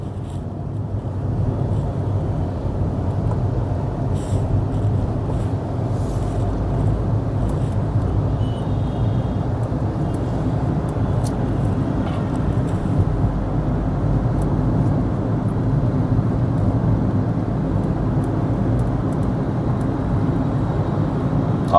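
Traffic jammed on a bridge over the Yamuna river, heard from inside a vehicle as a steady low engine rumble and road hum with faint distant horns, continuous and even throughout.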